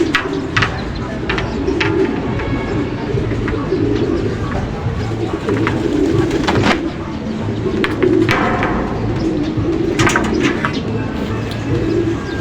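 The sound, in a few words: bird perched on an antenna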